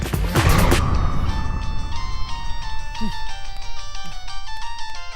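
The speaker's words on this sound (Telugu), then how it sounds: "వరుణ్, నీకు ఫోన్ అర్జెంట్." A phone ringtone plays a bright, repeating electronic melody, starting after a short burst of noise and continuing steadily to the end.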